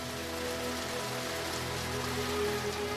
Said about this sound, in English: Antarctica suffers regular summer thunderstorms that sweep across the polar forest